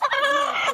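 A hen from a Manawatu hen seller gives a short, close, loud cluck-like vocal call.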